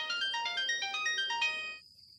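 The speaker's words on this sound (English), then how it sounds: "The phone's ringing." A phone ringtone plays a bright, repeating electronic melody of stacked tones for nearly two seconds, then cuts off, leaving a faint lingering tone and near silence.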